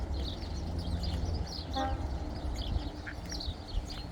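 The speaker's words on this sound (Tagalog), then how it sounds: "Saka may itik, oh." A few scattered duck quacks rise over a busy outdoor din at a botanic garden with pigeons around, a low rumbling background, no talking.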